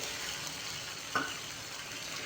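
Water poured into a boiling sugar-sweetened tempering for dhokla, a brief sizzling burst rising suddenly out of a steady low frying hiss, then settling back.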